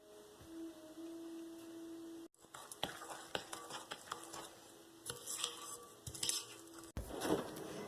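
Coconut flour being mixed into vegan brownie batter in a bowl, with irregular scraping and soft tapping strokes of the utensil, close and fairly quiet, broken by a couple of brief pauses.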